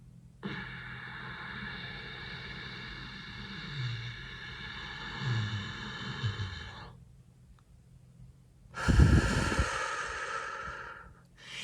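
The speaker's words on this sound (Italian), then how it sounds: "inaliamo dal naso sentendo il suono nella gola, in questo modo." A person draws a slow breath in through the nose with an audible rasp in the throat, then a louder breathy exhale near the end, heard close and alone during a breathing exercise.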